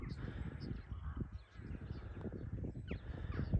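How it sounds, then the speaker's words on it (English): A flock of crows and pigeons caws over a freshly drilled field, harsh calls overlapping against a dense, rumbling outdoor background. "Look, all them birds eating my bloody seed."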